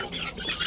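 Chickens cluck in a brief burst at a small egg-laying farm, a few close, overlapping calls over steady background noise.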